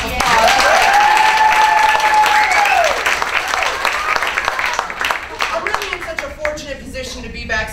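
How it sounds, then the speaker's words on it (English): Audience applause rolls on steadily through the whole stretch at a talk event, loud and dense, with sustained cheering or whooping voices rising over it early on. "Let's give her a round of applause."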